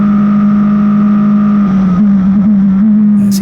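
Formula Regional open-wheel race car at the NOLA circuit accelerating hard, a loud steady engine drone close by that wavers slightly in pitch as it powers away.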